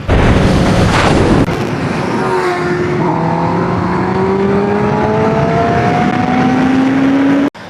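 Kawasaki ZX10R superbike with a changed exhaust link pipe: a loud, close engine roar with a sharp burst at the start, then a sustained rev whose pitch rises steadily, ending in a cutoff.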